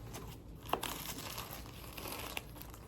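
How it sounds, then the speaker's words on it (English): Paper packaging crinkles and rustles close up as a Babalabags parcel is opened, with one sharper crackle near the start and soft, continuous handling noise after it. "let's go ahead and open up the package here"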